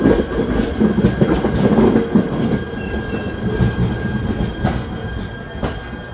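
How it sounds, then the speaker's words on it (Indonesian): A train pulls into a station in Japan with a loud rumble of wagons, rhythmic wheel clatter over rail joints and faint high squealing, close by and steady. "ini nih keretanya sudah datang"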